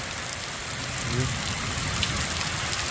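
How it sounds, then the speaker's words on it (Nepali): Heavy monsoon rain falling steadily across Nepal, a dense, even hiss of drops on surfaces close by, continuous and fairly loud for the whole stretch with no break. "हाम्रो यहाँ पनि यस्तो वर्षा भइरहेको छ त्यो तरिकाले"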